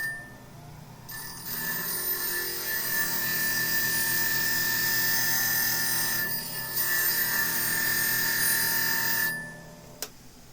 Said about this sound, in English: I need to put another burr on my scraper.